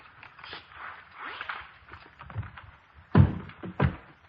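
A police badge and a gun are set down on a desk, two dull close thunks landing a moment apart after a stretch of quieter rustling and muffled movement.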